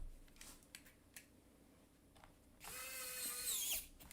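A power screwdriver whirs steadily for about a second, removing screws from the bottom of a laptop, preceded by a few faint clicks and taps close to the mic.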